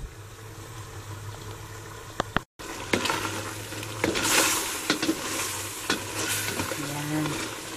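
Crab simmering in coconut milk in a pan sizzles and bubbles steadily. Repeated scrapes of stirring come through, close and moderately loud, with a brief cut near the middle and no talking.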